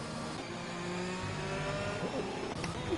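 A race car engine in a racing video game drones steadily as the car overtakes into the pits, a continuous loud mechanical hum with shifting pitch and no voices.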